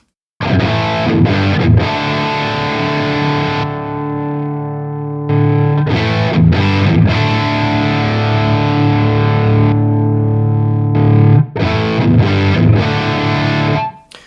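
An electric guitar plays through a RAT distortion model on a St. Rock Amperium Live amp modeler, giving loud, saturated chords that ring out in sustained bursts, with short choppy strums between them and a brief silence at the start.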